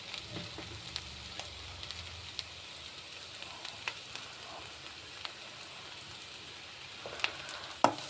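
Broad beans fry in a pan with a quiet, continuous sizzle, dotted with faint crackles and a few light taps from a spatula near the end.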